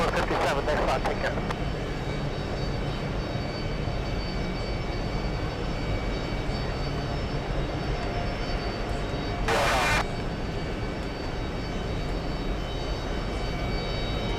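A Delta jet airliner departing JFK airport gives a steady, broadband engine roar throughout, with a brief hiss burst partway through. A voice speaks at the start over the engine noise.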